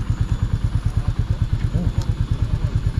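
A Royal Enfield Meteor 350 motorcycle engine idles with a steady, even thump, loud and close, pulsing in a regular rhythm throughout.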